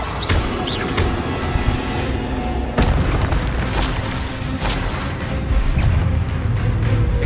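Spell effects in Hogwarts Legacy crackle and boom in quick succession, with sharp bursts and whooshing blasts layered over a dense game soundscape, loud and near throughout.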